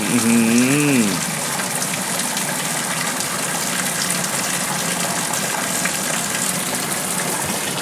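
Hot water gushes steadily from a bath tap in a Japanese ryokan-style hotel room at Centurion Hotel Ueno, a continuous loud splashing rush after a brief low hum at the start.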